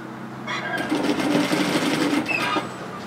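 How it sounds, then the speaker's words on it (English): Sewing machine stitching fabric for a pleated peplum twist top, a steady close, loud mechanical whir of rapid stitches running continuously through most of the stretch. "I'll just sew a couple more stitches."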